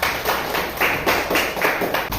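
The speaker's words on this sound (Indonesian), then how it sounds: "Tepuk tangan dulu untuk Ayah" Classroom group clapping in applause for a father who has just led children in singing the Indonesian national song Garuda Pancasila, arriving in steady rhythmic bursts of hand claps, close and fairly loud.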